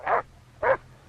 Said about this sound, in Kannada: ಅಲ್ಲೇನೋ ನಾಯಿ ಬೊಗಳ ಸೌಂಡ್ ಕೇಳಿಸ್ತಾ ಇದೆ.